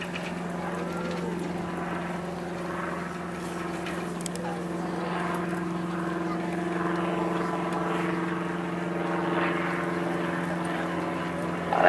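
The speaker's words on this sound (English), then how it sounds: "Maybe Bramwell, as I said, flying the Piper Cub tow" A Piper Cub tow plane's engine drones steadily with a low, even hum throughout, distant and unchanging, under faint background noise, at an Old Warden glider launch.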